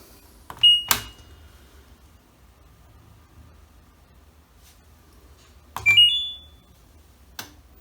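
A washing machine, just repaired after an OE drain error, starts up with short electronic beeps and clicks. Two brief clusters sound several seconds apart over a quiet background hum, with a faint tick near the end.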